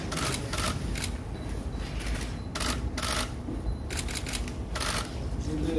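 Camera shutters click at a commemorative photo session after a Hyundai Mobis investment memorandum signing, several quick mechanical snaps in uneven bursts, fairly faint against a low room murmur.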